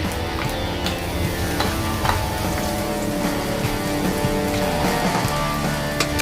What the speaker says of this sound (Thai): เดี๋ยวผมจะใส่ กระเทียมไปเจียวเลยครับแป๊บเดียว